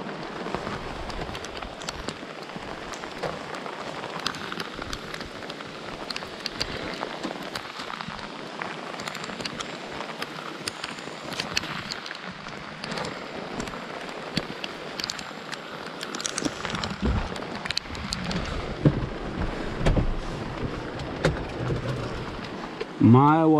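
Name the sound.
rain falling outdoors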